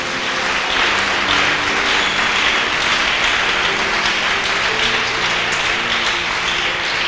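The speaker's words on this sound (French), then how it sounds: "Est-ce qu'on peut acclamer le Seigneur très fort?" A church congregation applauding and cheering for the Lord, a dense, loud, steady wash of clapping that fills the room throughout, with no single voice standing out.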